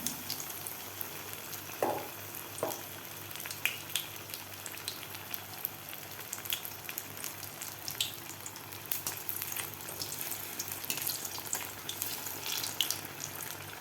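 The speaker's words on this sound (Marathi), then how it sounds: "गोल्डन कलर होईपर्यंत आपल्याला व्यवस्थित हे वडे तळून घ्यायचे आहेत" Katvada dumplings deep-fry in hot oil over a medium flame, giving a faint, steady sizzle with scattered soft crackles and pops.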